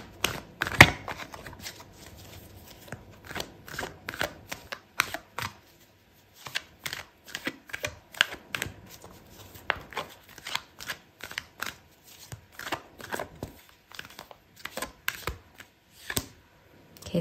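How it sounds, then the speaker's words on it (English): Tarot cards being shuffled by hand during a love reading, a steady run of crisp riffling flicks and soft slaps that goes on for many seconds, fairly close and quiet with no talking. "Okay, so I'm gonna pull out another card for you."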